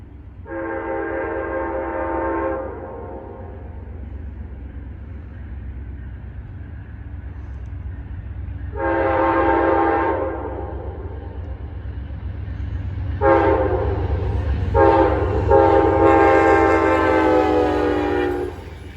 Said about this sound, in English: I saw headlights and a column of diesel smoke as a P-42 DC pulled hard up the grade, heading north